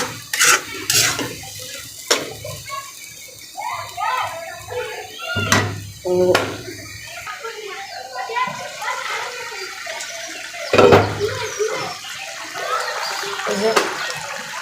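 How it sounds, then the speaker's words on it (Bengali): Water added to a pot of cooking lentils (dal) with splashing and a rush of liquid, scattered pot and utensil clinks, and a voice talking over it. "এখন আবার ডাল একটু পানি দিয়ে দেবো"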